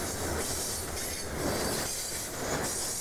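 A Bessemer and Lake Erie Railroad train rumbles steadily past on the tracks at Springboro, Pennsylvania, with rhythmic clacking and metallic hiss, close and loud throughout.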